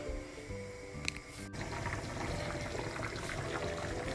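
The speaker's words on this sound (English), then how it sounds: "See, it has come to a boil now." Congee rice porridge simmering to a boil in a pot gives a steady bubbling, liquid wash close by, with a brief clank near the start and no talking.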